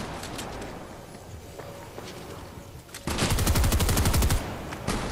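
Rapid video game gunfire, a loud burst of closely spaced automatic shots after a stretch of quieter scattered shots and footsteps, ending abruptly.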